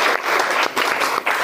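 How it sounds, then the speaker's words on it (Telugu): A crowd of about 112 residents at an orphanage applauds at a birthday celebration, the loud clapping coming in quick, slightly pulsing bursts close by. "ఈ యొక్క 112 మంది అభాగ్యుల ద్వారా చప్పట్లతో శుభాకాంక్షలు తెలియజేసుకుంటున్నాము"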